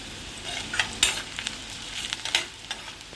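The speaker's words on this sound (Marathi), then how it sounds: "कांदा गरम करून घ्यायचा आणि थोडासा कडीपत्ता सुद्धा कांद्यामध्ये घालून घेते" Chopped onion with a few curry leaves frying in oil, a soft steady sizzle broken by several sharp crackles and spatula scrapes, close up, without talk.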